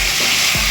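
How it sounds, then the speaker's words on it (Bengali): Loud, close sizzling of chopped spring onions and green chillies frying in oil with fish, a dense steady hiss filling the short moment, with no voices. "এবার দিয়ে দেবো কেটে রাখা পেঁয়াজকলিগুলো"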